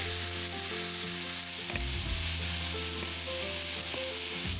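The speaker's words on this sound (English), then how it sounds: "we can use the leftover fat in the pan to cook our peppers and our onion" Peppers and onion fry in leftover fat in a pan, giving a loud, steady sizzle with occasional stirring clatter up close.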